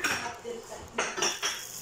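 Metal utensils clink and scrape against a mixing bowl in a kitchen while cake batter is being prepared, with a few sharper knocks and clatters standing out near the end.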